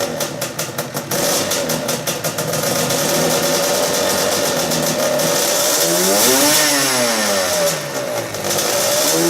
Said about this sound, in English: I will start the engine now.